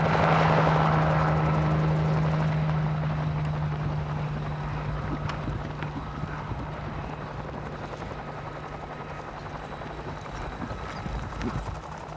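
A helicopter herds wild mustangs in North America. The sound is a steady, droning rotor and engine noise that is loudest at first and fades slightly as it continues, with a low mechanical hum underneath.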